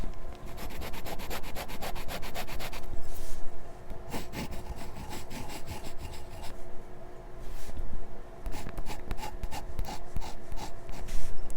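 A fountain pen nib scratches across paper in repeated close strokes, a dry rasping scribble with short pauses between bursts.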